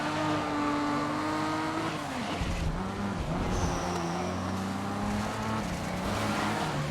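A Datsun race car engine in the video game GRID drones and revs steadily, with pitch sliding down and climbing again through gear changes, and a brief high whine midway.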